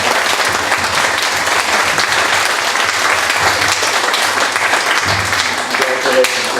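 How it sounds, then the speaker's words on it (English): Steady applause from the audience at a society meeting, a dense, loud wash of clapping that holds for several seconds without a break, with faint voices in the room beneath it. "let's give him a big round of applause for the wonderful job he's done"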